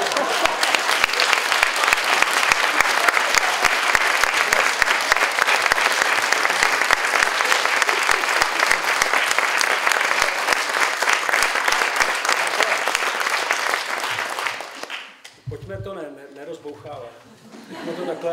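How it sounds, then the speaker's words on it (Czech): A live comedy audience claps steadily for about fifteen seconds, a dense, loud and even roar of applause that cuts off abruptly and gives way to someone speaking, with a little scattered laughter. "Já bych vám taky musel začít tleskat"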